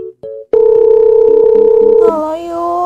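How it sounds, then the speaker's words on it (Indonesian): A telephone dial tone hums steadily after a few short beeps, then gives way to a brief ringing pattern at the end, with no talking. "Tapi kayaknya mau telepon Yuni aja"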